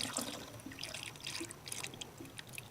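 Coolant poured through a funnel into the inverter reservoir of a second-generation Toyota Prius, a quiet, close liquid trickle with faint irregular splashing and dripping throughout, no talking.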